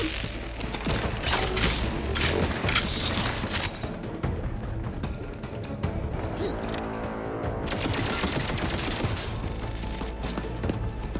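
Turret gunfire in The Outer Worlds 2, a sustained burst of rapid shots with mechanical clatter and crashing impacts, loud and continuous for most of the stretch, with game sounds layered underneath.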